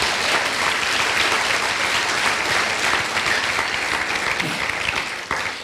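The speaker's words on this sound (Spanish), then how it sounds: "aplauda un poco mejor." A church congregation applauds during a sermon, a dense, steady wash of many hands clapping that holds at full strength throughout and fades slightly at the very end.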